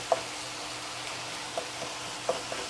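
Vegetables frying in a pan for a sweet potato and turkey shepherd's pie give a soft, steady sizzle, with a few faint light clicks from a utensil. It is quiet and close, with no talking.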